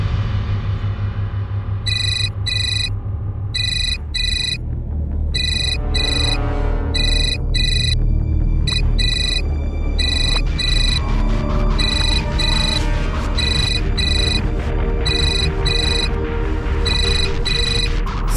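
A phone rings with an incoming call in a tense domestic crime drama, repeated bursts of a bright electronic ringtone pulsing over a loud, dramatic music bed that continues throughout.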